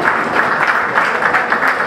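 Applause from the audience at a mushaira poetry gathering in Layyah, a loud, steady roll of many hands clapping without pause through the short stretch.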